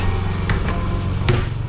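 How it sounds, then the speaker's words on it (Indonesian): A hammer taps a long screwdriver against the clutch of a Yamaha New Vixion motorcycle fitted with an assist slipper clutch and Daytona clutch plates: a couple of sharp metallic knocks over a low steady hum. "Jadi ini kalian pakai obeng ini yang panjang, pakai palu pelan-pelan diketok aja."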